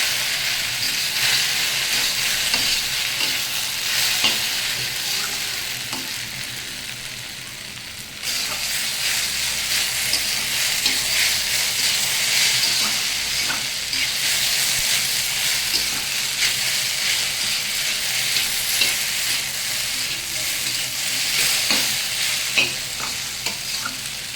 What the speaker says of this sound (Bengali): এরকম ভাজতে ভাজতে আর থাকবে না তখন খেতে বেশ ভালো লাগবে